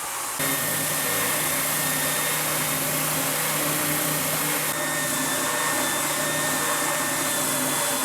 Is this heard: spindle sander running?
yes